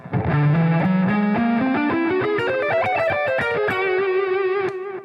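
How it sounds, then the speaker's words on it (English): A distorted electric guitar plays a whole-tone scale, a rising run of evenly spaced notes climbing step by step before settling on a sustained tone. "it's pretty much just a scale based on whole tones"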